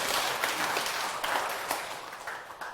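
Audience clapping during a Korean lecture class, a dense wash of many hands with occasional sharper claps that gradually thins toward the end.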